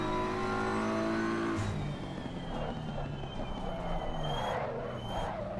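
An Audi in a sim racing video game, with the engine note shifting and falling through a corner while tire scrub and squeal rise and fade, steady and fairly loud.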